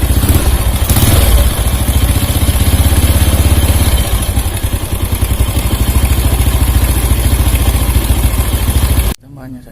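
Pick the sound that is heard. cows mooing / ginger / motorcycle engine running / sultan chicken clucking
motorcycle engine running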